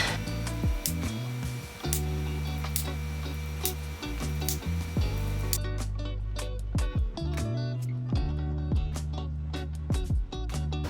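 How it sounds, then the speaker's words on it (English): A knife slices through rolled pinwheel cookie dough on a board, producing a series of sharp repeated taps and cuts at a steady pace, close and fairly loud, with a low constant hum underneath. "Let's slice."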